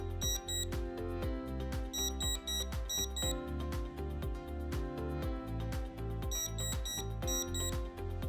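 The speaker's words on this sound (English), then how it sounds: "if the syringe is disengaged, red LED flashes with an audible alarm" An Accuflow Thala infusion pump alarm, triggered by a disengaged syringe, beeps in steady pulsing bursts, loud and continuous, with a low droning tone underneath and no voices.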